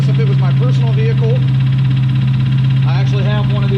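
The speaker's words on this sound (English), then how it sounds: "A little bit of a Hemi lifter tick, very common in these." A 2007 Dodge Charger SRT8's 6.1L Hemi V8 idles with a steady deep hum and a light ticking from worn lifters, while someone talks over the engine noise.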